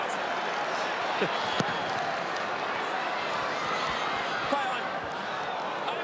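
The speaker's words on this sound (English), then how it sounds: "It's in front of the St Kilda cheer squad, and they are giving it to him." A St Kilda cheer squad jeers a player at an Australian football match, and their dense, roaring crowd noise holds steady throughout, with a commentator talking over it.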